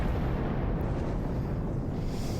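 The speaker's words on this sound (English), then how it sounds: "never get too close to the explosions because they will destroy you" Explosions in the space combat video game Star Trek Online, a dense, continuous low rumbling roar that stays loud and steady throughout, with no distinct separate blasts and no talking.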